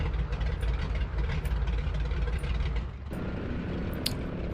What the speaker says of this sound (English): Shut our engines down. Close off the mags. There we go. Just those engines just winding down.